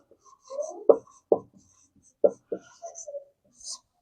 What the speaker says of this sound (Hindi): अब लिखते हैं